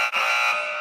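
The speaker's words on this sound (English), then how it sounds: "That's our first buzzer of October." A quiz game's buzzer blares as a single harsh, sustained electronic buzz, loud and close, for under a second with no talk over it.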